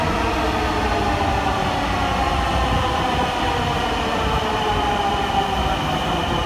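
A metro train on a busy Bangladeshi urban rail line pulls in at the station, a loud continuous rumble with a steady mechanical hum and no break, heard without talk.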